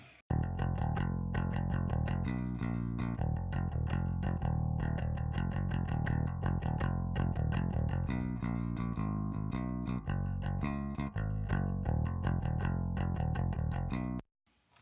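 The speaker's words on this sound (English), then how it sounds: "the bass sounds like this without anything" A bass guitar recorded clean through a DI, with no amp or effects, plays a busy, steady line of plucked notes, dry, continuous for about fourteen seconds before stopping abruptly.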